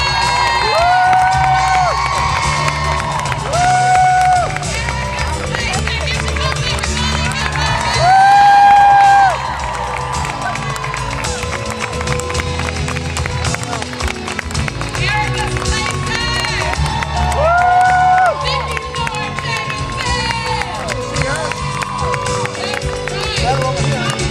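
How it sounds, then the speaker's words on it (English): A live audience at a celebrity interview event at Disney's Hollywood Studios in 2007 claps, cheers and whoops loudly and continuously, a dense crowd roar mixed with shouting and music for the whole stretch. "I want you please start clapping now."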